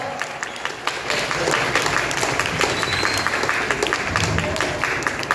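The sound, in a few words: audience applause at karate camp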